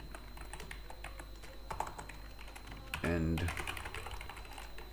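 Computer keyboard typing while coding a React Native navigation component, a steady run of quick close key taps with someone talking over it.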